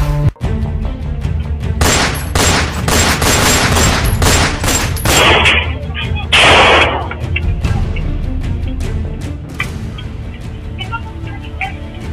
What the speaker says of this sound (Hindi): अगर एक घर के बाहर कई राउंड गोलियां चले तो कोई गोली की आवाज सुनकर अपने घर से